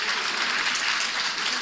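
Dense, steady applause from a crowd during a political speech, a continuous even wash of clapping with no break.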